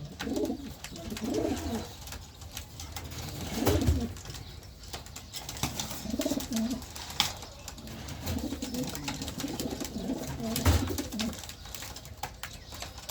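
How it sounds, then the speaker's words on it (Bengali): Pigeons from a flock of twelve coo repeatedly in soft, low throaty phrases, with occasional wing flutters and light rustling against a steady background hiss; no one speaks. "আমি বারোটা কবুতর নিয়ে পাল্লায় যাচ্ছি"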